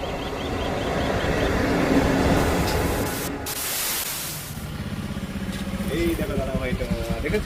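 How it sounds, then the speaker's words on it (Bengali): A train pulls in with a loud, steady rumble and a sudden hiss of air, rattling wagons and background crowd noise as it slows. "ট্রেন ঢুকে গেছে বন্ধুরা"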